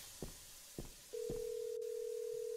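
A phone dialing the police in a parking garage horror game: three short beeps followed by a long, steady dial tone held to the end.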